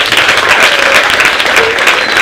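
Secondary school girls clap for themselves at a menstrual dignity kit distribution, a loud, dense, sustained burst of group applause with excited voices and a few faint whistles or cheers blended in.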